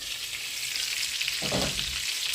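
Buckwheat fritters sizzle in oil in a covered pan, a steady dense frying hiss throughout with a brief louder burst of crackle midway.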